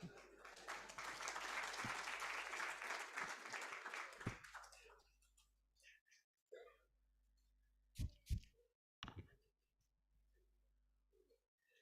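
An audience at an Africa Industrialisation Day commemoration event gives a short burst of applause that fades after about four seconds, followed by scattered faint claps and noises in a quiet room.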